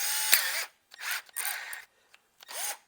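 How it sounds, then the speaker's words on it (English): A handheld cordless, battery-powered drill whirs in short bursts, four or five quick revving pulses separated by brief silences, close and fairly loud with no talking. "And this drill ought to give us the most amount of room to work with."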